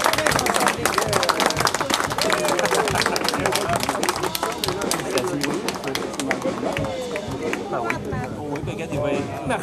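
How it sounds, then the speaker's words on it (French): Audience at a Leucan head-shaving charity event applauds loudly and steadily, dense clapping mixed with cheering and crowd chatter throughout. "Fait qu'une bonne main d'applaudissements pour Matt et Olivier."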